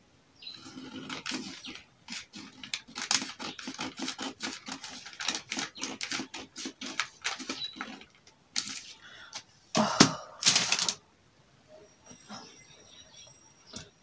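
Scissors snip steadily through fabric as sewing pieces are cut for a yoke neckline, giving a run of quick, close cuts with brief pauses and a few louder handling sounds near the end.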